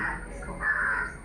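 A crow caws twice in quick succession, moderately close, against quiet background noise.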